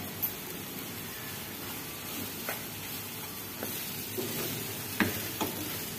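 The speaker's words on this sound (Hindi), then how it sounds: "इसे अच्छी तरह भूनूंगी।" A carrot burfi mixture of grated carrot roasts in a pan, giving a soft continuous sizzle with faint scraping stirs and occasional light clicks, quiet and steady.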